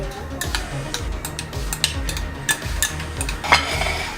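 Raita is stirred with a spoon after basil leaves and rock salt go in, giving repeated soft scraping and clinking strokes against the bowl at a quick, even rhythm, with a few sharper taps; no speech.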